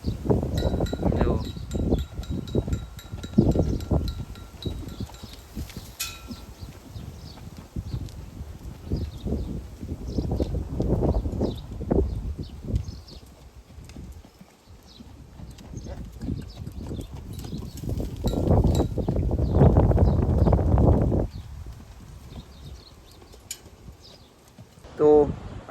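Horses walk near a village by Morbi, their hooves clip-clopping in uneven bursts, sometimes close and sometimes fading, while people talk over them at intervals.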